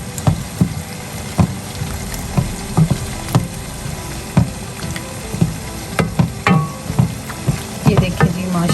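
Lung curry with green coriander is stirred in a pan, with a spoon knocking and scraping at an irregular pace over a continuous bubbling sizzle, loud and close, with no voices.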